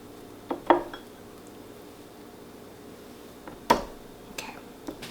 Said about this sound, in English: Let's go ahead and just break this in half.